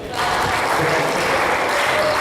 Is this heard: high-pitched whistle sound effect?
no